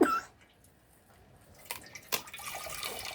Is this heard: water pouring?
yes